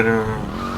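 Car tires squeal and skid in the GTA Vice City video game, a loud, short, sliding screech that drops in pitch over under a second, with engine noise beneath.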